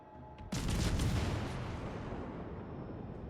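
Tank cannon firing HE/SAP shells in a video game: one sudden heavy boom that rolls into a long rumbling tail, close and loud.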